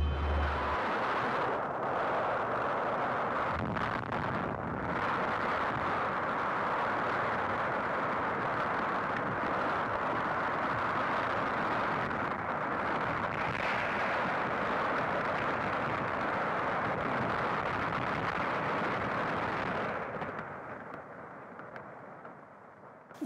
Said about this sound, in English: When that explosion was set off, it was the largest man-made, non-nuclear, peacetime explosion.